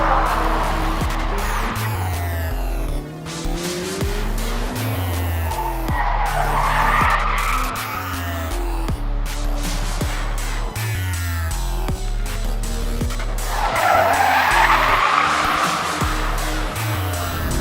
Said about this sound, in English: they're gonna let us go out and just absolutely destroy the tires